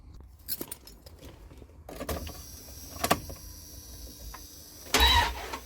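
A Dodge conversion van engine cranks over after a cylinder head replacement, its starter whirring in uneven bursts among keys jangling and cab clicks, ending in a louder, rougher crank.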